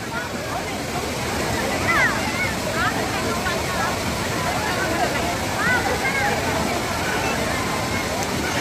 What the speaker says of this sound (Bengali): যত বৃষ্টি তত এখানে ঝর্ণার গতি বাড়বে।